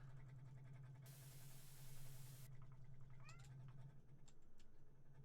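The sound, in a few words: cat meowing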